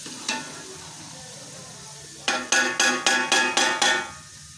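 One kilogram of yogurt goes into browning onions in a large pot for degi chicken korma: a single metallic clank, a pause, then a rapid series of six ringing utensil strikes against the pot.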